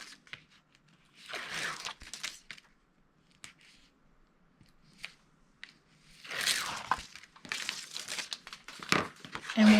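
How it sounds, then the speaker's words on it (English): Tape peeled away from a piece for a chest of drawers, coming as two louder crinkling, tearing bursts near and close, with scattered light rustles and taps between them. "Now I'll peel away that tape."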